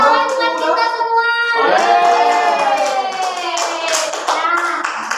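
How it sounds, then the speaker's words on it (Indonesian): Children in a microteaching classroom lesson chant together in voices, then break into a run of sharp, rhythmic hand claps over the sung words, close and lively. "Tepuk tangan buat kita semua."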